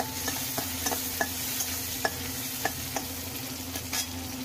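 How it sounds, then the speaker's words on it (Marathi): Onions sizzle gently in oil while a utensil taps and scrapes the pan at an irregular pace, close by and with no voices. "हे बघा मी तेलामध्ये कांदा टाकलेला आहे, तर कांदा आपण फ्राय करून घेऊया पहिला।"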